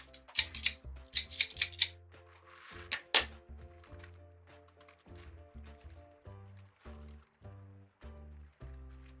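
Several crisp snips from scissors trimming deco mesh close up, a quick run of them early then scattered clicks and soft thuds.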